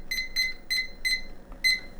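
A kitchen alarm timer being set for five minutes gives five short, crisp, high electronic beeps in an even rhythm, close and fairly loud.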